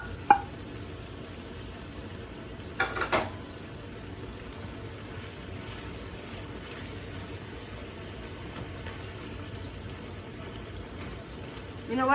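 Pork sizzles in a pan with lemongrass and ginger as it stir-fries: a steady, close frying hiss throughout, broken by a few scraping stirs.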